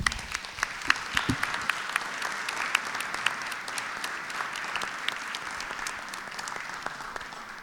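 Applause from an audience at a disability and public policy meeting, a fairly quiet, even patter of many hands clapping throughout, with a few sharper individual claps near the start.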